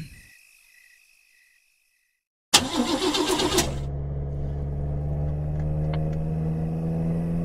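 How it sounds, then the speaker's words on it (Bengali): A cartoon car engine revving while driving fast along a village road, a sudden loud start after near silence, then a steady low drone running to the end, with faint insect chirps early on. "বেশ জোর গতিতে গাড়ি চালিয়ে যাচ্ছি, যাতে তাড়াতাড়ি পৌঁছতে পারি।"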